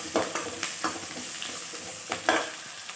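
Onions tipped into hot oil with green and dried red chillies, sizzling in a pan while a Telugu tamarind stew is being cooked, with steady frying hiss broken by a few sharp stirring scrapes and spatters, close by, no talk.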